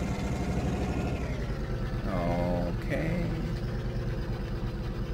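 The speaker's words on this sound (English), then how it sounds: "Wow, that's a big truck." A big truck's engine idles in the Farming Simulator 2013 video game, Idaho map, as a steady low rumble that runs the whole time, with a brief voice speaking over it.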